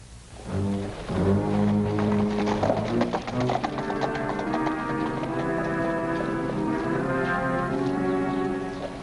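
Steady clip-clop of horse hooves beneath a swelling musical score, the rhythmic clopping running throughout at moderate loudness.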